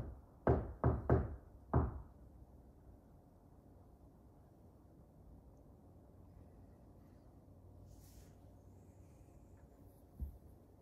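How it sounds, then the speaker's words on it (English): Four sharp knocks in quick succession on a surface inside a reportedly haunted house, loud and close, followed by a long near-silent stretch and one faint single knock later, with no talking. "Can you finish this knock?"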